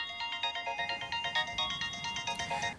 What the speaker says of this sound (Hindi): उठाओ, तुम्हारी चहेती का ही फोन है